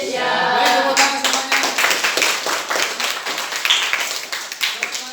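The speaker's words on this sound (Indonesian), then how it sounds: "tepuk tangan" A group claps hands together at close range, with a fading tone at the start followed by uneven, fairly loud bursts of clapping that sometimes fall into a rough beat.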